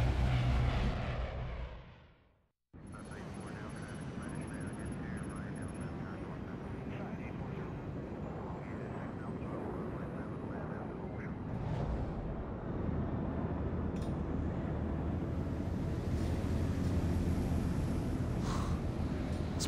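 Steady, loud airplane cabin engine drone in the video game Splinter Cell: Blacklist, a continuous broadband roar that starts after a brief cut to silence and holds at near-constant level throughout.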